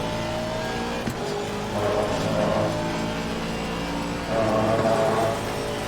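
A race car in Assetto Corsa Competizione at Spa holds a loud, droning engine note, with two swells as another car draws alongside and passes close by.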